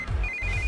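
A phone rings with an incoming call, a brief electronic ringtone with a steady high tone over a low background hum.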